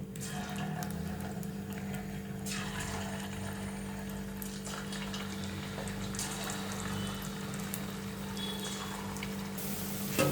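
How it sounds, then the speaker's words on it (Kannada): Cauliflower pieces deep frying in hot oil, a steady close bubbling hiss with scattered crackles and a constant low hum underneath throughout. "ಚೆಕ್ ಮಾಡಿಬಿಟ್ಟು ಡೀಪ್ ಫ್ರೈ ಮಾಡೋಕೆ ಹಾಕೋಣ ಇದನ್ನು"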